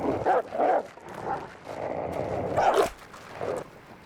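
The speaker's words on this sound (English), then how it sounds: "Listen to this bark. This specific wolf is about to attack." A timberwolf in The Long Dark gives several short, gruff barks and yips before it attacks, spaced out over a few seconds against a low background rumble.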